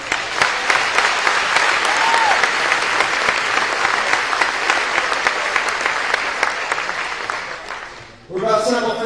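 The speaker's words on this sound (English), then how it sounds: "How about a round of applause for our host tonight?" A crowd at an All-American Bowl welcome barbecue applauds their host, giving loud, sustained clapping that fades out near the end as a speaker resumes.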